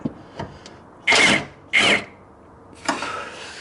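Short bursts from an impact wrench working on a 14mm bolt on a Honda Integra B-series engine: two loud rattling bursts of about half a second each, a weaker third, and light clicks and handling noises between them.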